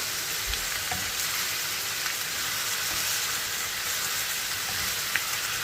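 Ragu ingredients fry in a couple of teaspoons of oil in a pan, giving a steady close sizzle and crackle with occasional small pops, with no talking.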